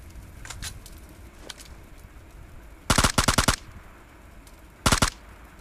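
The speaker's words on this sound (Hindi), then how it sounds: "लेकिन भाई तभी स्टेडियम से फायरिंग शॉट्स आती हैं" Gunfire from the mobile battle game PUBG Mobile Lite: a rapid automatic burst of about six shots, then a shorter burst of three, with fainter distant shots earlier, loud against quiet game ambience.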